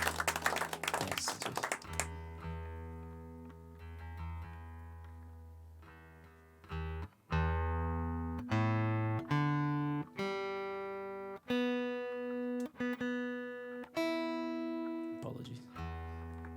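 A stringed instrument being tuned between songs at a live show: single plucked notes ring out one after another and decay, adjusted in pitch, following a brief burst of noise at the start.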